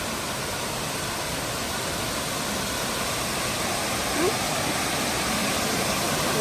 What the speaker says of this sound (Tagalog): Uy, ang lakas ng tubig.